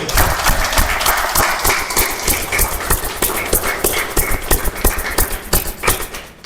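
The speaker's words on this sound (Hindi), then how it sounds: "मेरे लिए नहीं, अपने आप के लिए ताली बजा दो।" An audience in a seated talk session breaks into loud, dense clapping that carries on for several seconds, sharp individual claps standing out from the mass, with no voices on top.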